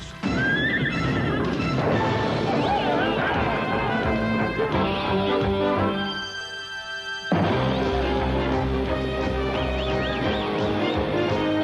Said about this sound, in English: How are those horses doing?